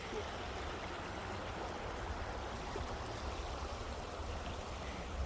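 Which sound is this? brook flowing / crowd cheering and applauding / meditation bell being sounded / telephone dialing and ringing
brook flowing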